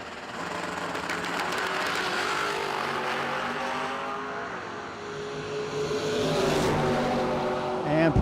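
Drag race cars, a 1973 Plymouth Duster and a Firebird, roar at the No Delay Nationals, with engine noise swelling, rising and surging close by under an announcer's voice.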